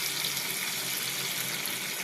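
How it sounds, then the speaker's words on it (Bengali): Boiling water being poured into a country chicken curry cooking in a pot, a brief, dense, steady hiss of pouring liquid close by, no voices. "এবার অল্প করে ফুটন্ত পানি দিয়ে দিব"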